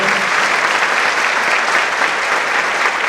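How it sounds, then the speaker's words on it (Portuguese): Applause from the audience at a ceremonial jury event in 2019, a dense, steady clapping from many hands at close range that continues without a break. "pedir uma bonita salva de palmas para esses grandes nomes que estão aqui"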